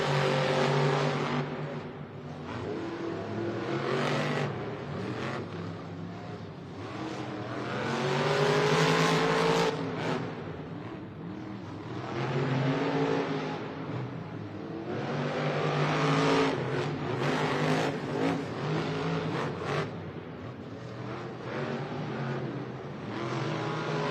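Monster trucks race side by side at a Monster Jam stadium event in St Louis, their engines roaring loudly and steadily with rising revs and surges of power across the whole stretch.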